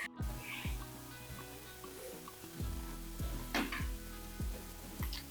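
Thick moong dal payasam bubbling in a pot: slow, irregular low plops and pops, quiet and close, with faint kitchen clatter.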